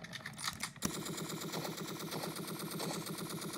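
Rapid automatic gunfire aimed at a gunship in the video game Entry Point, a steady dense rattle of shots running continuously after a brief burst and pause at the start.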